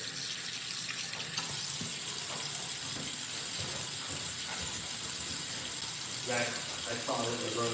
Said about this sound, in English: I'm just gonna rinse them off really well.